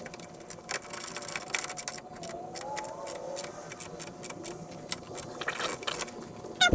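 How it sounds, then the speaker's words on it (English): Bolt being tightened by hand on a 1990 Ford Mustang during a coolant change, giving faint, irregular clicking and ratcheting clatter against a steady low background hum. "gotta put in the second bolt"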